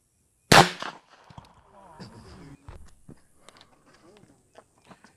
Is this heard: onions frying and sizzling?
no